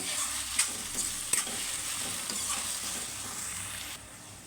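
Chopped tomato pieces cooking in a pan over medium flame for an egg masala curry, giving a steady soft sizzle with a couple of brief stirring clatters, close by and with no talk.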